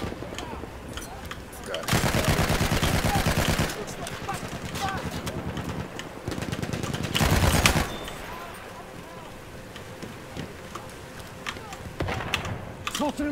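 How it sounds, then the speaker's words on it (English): Machine gun fire rattles out in a WW1 video game, two loud, sustained close bursts standing out from scattered distant shots across a noisy battlefield, with no one talking over them. "Machine gun"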